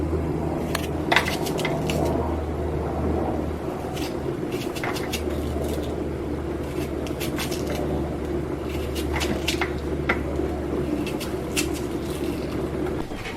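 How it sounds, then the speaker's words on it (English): An onion being cut up with a knife in a home kitchen while cooking spicy turkey necks: a series of crisp, close chopping taps, irregular and clustered, over a steady low background hum, with no talking. "I'm cutting up my onion"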